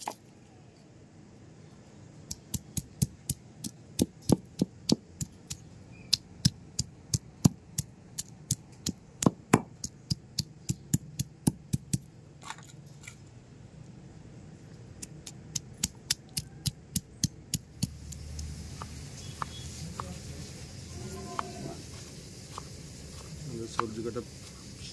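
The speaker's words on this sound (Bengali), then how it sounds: "আমরা এবার আদা রসুনটা এই শিলনোড়ার মধ্যে এবার বেটে নেবো" Ginger and garlic ground on a shil-nora grinding stone, heard as repeated sharp knocks and scrapes in irregular bursts, fairly close, over a low steady background hum.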